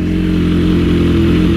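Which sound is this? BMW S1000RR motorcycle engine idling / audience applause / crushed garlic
BMW S1000RR motorcycle engine idling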